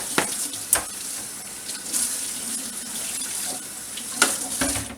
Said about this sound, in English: Let's get that a rinse off here.